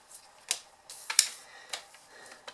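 Paper cut with scissors while trimming a notepad cover, a few short crisp snips spaced irregularly, quiet and close, with no talking.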